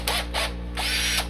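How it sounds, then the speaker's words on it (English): A Porter Cable power drill whirs in short bursts at a woodworking bench, three or four quick close trigger pulls over a steady low mechanical hum, no talk. "So I got my handy dandy, I think it's a Porter cable drill"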